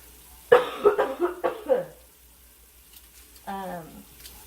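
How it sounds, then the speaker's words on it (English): A short burst of several close coughs in quick succession, followed after a pause by a brief voiced sound, over a quiet background. "Excuse me, I'm gonna cough."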